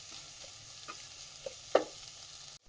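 Faint sizzling in a pan with a few soft scraping taps as spices are stirred, quiet and close.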